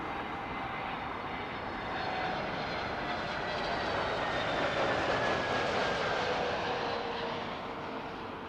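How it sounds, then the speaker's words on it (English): An Airbus airliner flies past at Heathrow Airport, a steady broadband jet engine roar that swells toward the middle and slowly fades, heard at a distance with no talk. "As we see this little Airbus dip in the wing to stay online"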